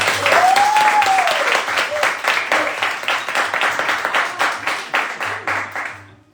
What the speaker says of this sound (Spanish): Un aplauso para la tribuna.